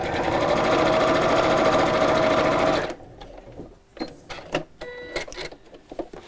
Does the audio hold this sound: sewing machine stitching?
yes